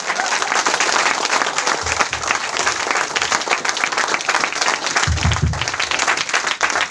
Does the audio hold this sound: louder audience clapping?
yes